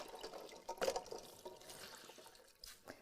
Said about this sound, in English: You don't need to wring your cloth too much.